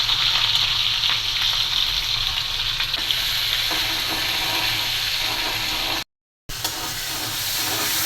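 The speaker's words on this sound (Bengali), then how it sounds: "পেঁয়াজ কুচি দিয়ে দিচ্ছি" Chopped onion hitting hot oil in a wok on a rooftop during rain, producing a loud, steady, hissing sizzle close by that holds throughout except for a short silent gap.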